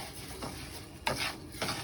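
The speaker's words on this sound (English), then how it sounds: "we're going to be browning the rice" Rice browns in oil in a pot, a soft steady sizzle with scraping stirs that come in a few distinct strokes, close and moderately quiet with no speech.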